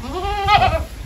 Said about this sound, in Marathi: ही बोकड